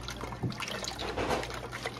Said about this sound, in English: pouring in all that oil